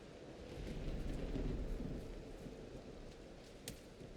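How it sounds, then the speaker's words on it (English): Rain falls steadily and thunder rumbles outdoors in the game Valheim, a low rolling swell that peaks early and fades into a soft hiss with one faint crack near the end, no voices. "Wet and rainy. I'm outside just getting soaked, chilled to the bone."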